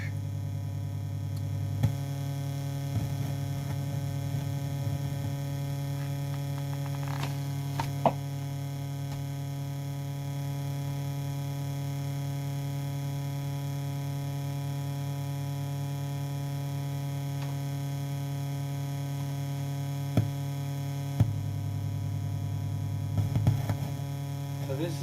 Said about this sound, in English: This is actually the sound of my power supply right here, which must indicate that it is pretty bad.